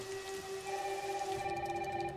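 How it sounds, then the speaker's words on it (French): Heavy rain pours down in the video game Resident Evil Requiem, a steady, even hiss of falling water that lasts throughout, layered with sustained tonal background drones. "il pleut vraiment des cordes"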